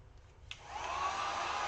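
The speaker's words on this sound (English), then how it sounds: "I'm gonna just heat gun this real quick" A heat gun switches on with a click and ramps up to a steady, loud blowing whir while drying paint on a flamingo door hanger, heard close and alone.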